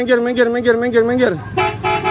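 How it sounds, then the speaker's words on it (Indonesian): A truck horn honks with long, steady tones in a busy street, sounding near and loud amid playful outdoor commotion, with people talking over it. "Awas, ada mobil truk nih."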